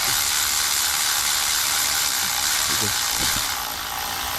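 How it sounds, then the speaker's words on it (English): Low-torque ratchet, rated around 25 pounds, tightening a bolt during head gasket work on a 2006 Toyota Camry Solara engine, giving quick clicking pawl ratchets under a steady noisy hiss. "So this is a very low torque ratchet."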